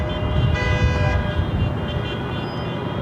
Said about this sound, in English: the Uber Lyft drivers, which are in that lot, start honking their horns